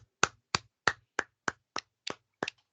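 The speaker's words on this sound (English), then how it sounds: "So let's clap it up." Eight crisp, evenly spaced hand claps ring out close and alone, roughly three per second in a steady rhythm with silence between each sharp slap.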